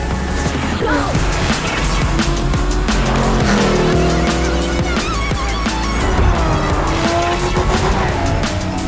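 A race car in the Forza 5 video game drives fast, with a loud, continuous engine roar, shifting revs and repeated tire squeals and skids throughout.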